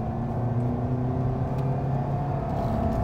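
A 2023 Toyota Veloz engine drones and roars steadily with a constant, even pitch, the sustained whine of a continuously variable transmission.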